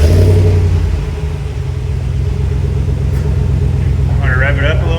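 2019-2024 RAM 1500 pickup truck with a Magnaflow 19433 muffler, deep idling rumble that swells briefly at the start then settles into a steady low burble, with a voice speaking briefly over it near the end.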